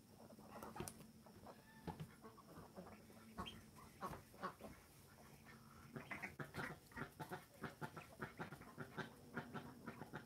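A small duck gives a run of quick quacks and peeps, close by and moderately loud, with faint background noise and no talking.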